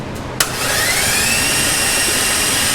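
An LS V8 swapped into a Jeep Comanche, cranking over with the spark plugs out: a click, then a loud, steady whirring spin with a rising whine that holds evenly to the end.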